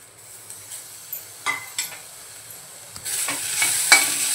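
Coconut pieces, garlic cloves, ginger and onion fry in a pan for misal, with a few soft scrapes and taps of a spoon at first, then a brighter, louder sizzle swelling up in the final second or so.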